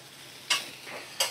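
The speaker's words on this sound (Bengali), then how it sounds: "এই সোয়াবিনটা এবার কষিয়ে নিচ্ছি" Soybean curry with onion, garlic, tomato, green chili and spices frying in a pan as it is stirred, with two sharp scraping strokes over a faint low sizzle.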